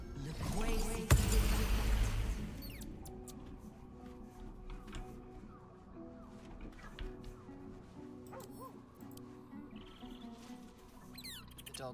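A dog holding a small bag in its mouth gives muffled whimpers and little yips, starting with a louder burst and then continuing as soft, fitful whines against a quiet indoor background.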